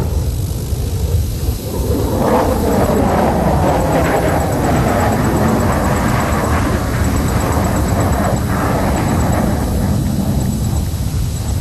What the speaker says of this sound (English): The aircraft will now fly along the grandstand from your right to carry out a series of rolls.